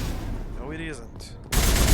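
Gunfire bursts in the Mass Effect video game on Noveria, dense shooting in the first half, then a loud burst of fire from midway on, with a voice calling out in between.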